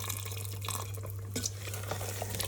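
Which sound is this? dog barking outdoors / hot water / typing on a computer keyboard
hot water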